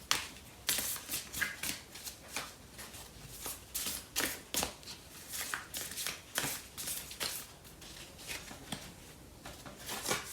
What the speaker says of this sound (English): So I'm going to pull out a card from Love's Oracle deck for this reading